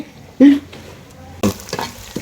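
Pointed gourd peels fry in a pan, a soft sizzle broken by two sharp scraping stirs, close and alone.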